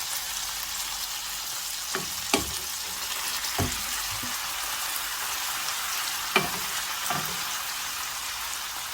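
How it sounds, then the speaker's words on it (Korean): Scallions and garlic stir-fry with soy sauce in a pan for garlic gimbap. An even sizzle runs throughout, broken by several sharp utensil scrapes and taps against the pan. "파와 마늘이 노릇노릇해지면 간을 해주세요. 간장 넣어주세요."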